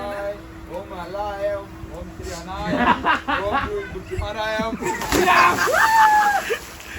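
A person jumping into a swimming pool at a farmhouse, with splashing and sloshing water mixed among laughter, chuckles and excited voices of several people nearby.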